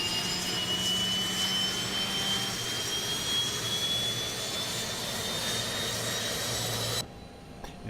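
An Airbus A321 auxiliary power unit in the tail section runs as a steady jet-like whine and roar, recorded for a Pratt & Whitney A321 flight simulator soundpack; the sound holds evenly for several seconds, then cuts off abruptly near the end.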